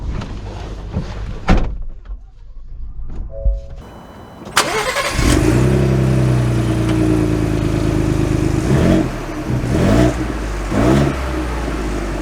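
A 2023 Ford Bronco Wildtrak starts up with a door thunk and engine crank, then settles into a steady, loud mid-pitched engine drone as it pulls away, with a few revving surges while driving.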